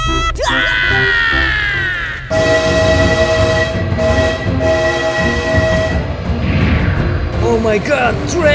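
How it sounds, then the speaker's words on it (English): Train rolling past in the BeamNG.Drive driving game, a loud steady rumble of rail cars with a sustained horn blast near the start and a shrill scream-like squeal at the end. "Oh my god, train! Please, please stop!"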